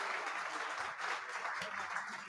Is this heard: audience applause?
yes